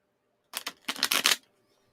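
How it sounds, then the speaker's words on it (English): A deck of tarot cards is shuffled close by in two quick bursts of papery riffling and snapping, then stops, with no talking. "Gonna shuffle a couple of times for you."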